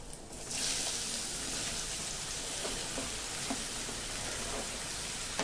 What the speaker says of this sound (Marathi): ह्या गिलक्याच्या ज्या फोडी आहेत त्या गिलक्याच्या फोडी आपण याच्यामध्ये घालूया